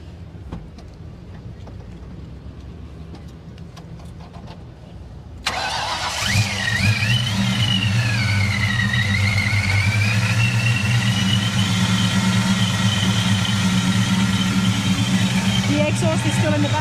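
A supercharged Ford Mustang at a cruise-night block party in a mall parking lot fires up abruptly and settles into a loud, steady idle with a whining supercharger, close by, with outdoor crowd noise before the start.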